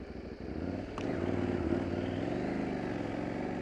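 A KTM 790 Adventure R motorcycle's engine rises as the rear wheel spins up on slippery ground, a steady close-up drone that jumps in pitch and loudness and then holds.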